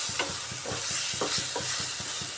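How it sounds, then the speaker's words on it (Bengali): Chopped tomatoes go into a frying pan of spiced fish and kochu stems and get stirred, a steady sizzle with regular spoon scrapes repeating at an even rhythm, close and clear, with no voices. "এবার কেটে রাখা টমেটো দিয়ে দিচ্ছি।"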